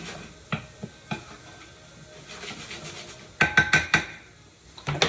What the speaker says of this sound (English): So we're going to let those saute. We got garlic, red onion, mushrooms, right?